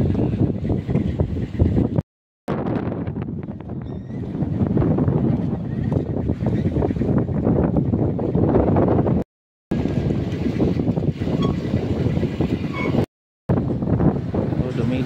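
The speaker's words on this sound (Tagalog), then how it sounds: "Umpisa na nga ang hangin" Strong gusting wind as typhoon Pepito arrives at a pier at dusk, roaring steadily and buffeting the microphone with broadband rumble, continuous apart from brief cuts.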